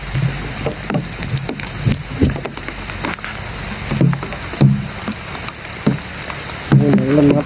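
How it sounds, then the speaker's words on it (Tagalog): Rain falls outdoors in a steady patter on surfaces, with scattered heavier drips and knocks breaking through the continuous wash of sound. "Umuulan."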